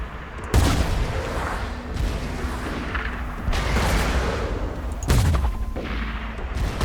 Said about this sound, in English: technically this is more like a slag grenade launcher